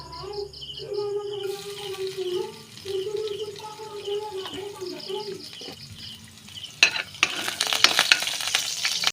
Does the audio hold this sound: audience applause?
no